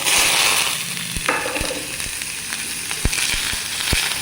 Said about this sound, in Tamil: கொஞ்சமாக கருவேப்பிலை, பிரண்டை ரெண்டையும் லைட்டாக வதக்கினா போதும்